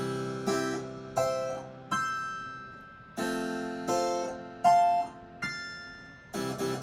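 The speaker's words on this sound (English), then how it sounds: "the harpsichord sounds like this." Harpsichord voice on a Yamaha P121 digital piano plays bright plucked chords, each struck sharply and then decaying, repeated about ten times in a loose rhythm, close and clear with no talking.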